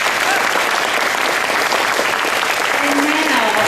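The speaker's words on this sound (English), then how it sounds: "How about one more round of applause for our 2 astronauts?" Audience applause at a Space Camp graduation ceremony honoring two astronauts, loud dense clapping from a large crowd, continuous and even throughout with faint voices underneath.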